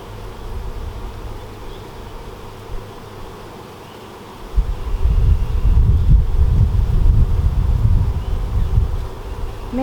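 Honeybees drone around an open, nectar-heavy hive from a recently split colony, a faint hum at first that swells into a loud, close buzz with wind rumbling across the microphone.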